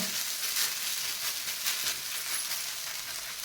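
Soft, even sizzle of a hand-pressed poha-and-cabbage dough patty frying on an oiled griddle, faint and continuous, with no speech.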